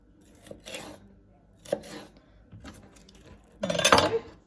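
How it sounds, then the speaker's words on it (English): Knife slicing a vegetable into nice thin slices on a cutting board for satay chicken: a few separate chopping taps, then a louder, denser run of cuts near the end, with no talk. "Once it's like that, just do some nice thin"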